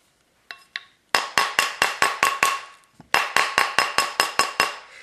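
A hammer strikes a wire ring with a domed washer on a metal surface, two light taps then two rapid runs of about seven sharp, ringing metallic blows each, close and loud with no talking.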